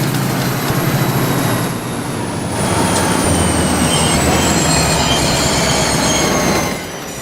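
A PRR SD40 locomotive hauling an express train in a video game on a high-speed map, with loud continuous rumbling rail noise, rising wheel squeal and a steady roar that briefly dips before swelling again.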